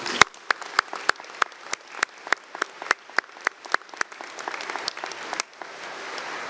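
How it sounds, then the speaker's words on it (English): A small group at a college commencement ceremony applauds, with distinct sharp claps in a steady rhythm over softer scattered clapping that thins toward the end. "Let's give them a round of applause."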